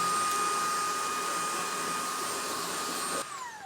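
A Dreame P10 cordless stick vacuum sucks up spilled coffee grounds with a loud, steady, high-pitched whine that holds evenly, then drops off sharply near the end as the motor shuts down.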